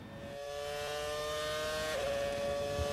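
A 2008 AT&T Williams Formula One car on a Q2 qualifying lap at Fuji Speedway, a loud steady high-pitched engine whine building and holding as it accelerates, heard from close by with no voices.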